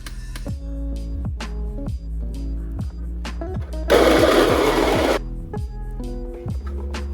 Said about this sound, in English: Ground your coffee to medium fine, or if you have an Encore Baratza coffee grinder like me